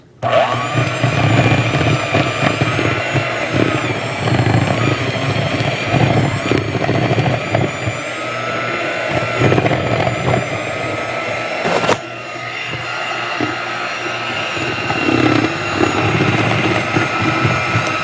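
An electric mixer whirs steadily through cake batter, its motor giving a continuous, loud mechanical drone with a faint rattling texture. Pitch and level shift slightly midway, with no talking.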